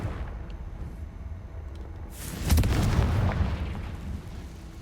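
The Confringo explosion spell goes off in Hogwarts Legacy, a video game, with a booming, crackling burst that swells and then fades over a few seconds of game ambience.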